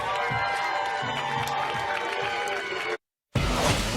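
Crowd at a college softball super regional game between Texas and Oklahoma State applauds a departing pitcher: steady broad cheering and clapping across the stands, fairly distant, cut by a brief gap before resuming.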